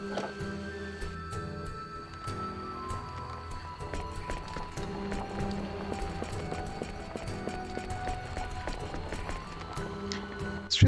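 Lum hooves clip-clop in a steady, quick rhythm in the PS2 game Star Ocean: Till the End of Time, with sustained game music and ambience underneath throughout.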